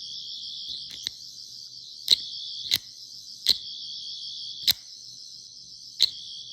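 Nawya Replicas 10th Doctor sonic screwdriver replica emitting a continuous high warbling electronic whine, close and steady, broken by several sharp clicks at irregular intervals.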